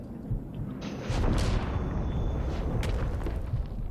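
Artillery firing during a siege in the video game Shadow of War, a continuous rumbling barrage of booms and blasts that swells louder after the first second and holds steady to the end.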